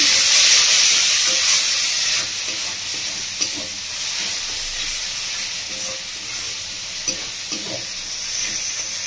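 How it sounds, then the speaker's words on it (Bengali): Ground coriander and Kashmiri chilli powder masala fries in hot oil for Bengali khichuri, a steady broadband sizzle and hiss with soft scraping stirs throughout, loudest at the start and then settling slightly. "মশলাটা কষিয়ে নেব।"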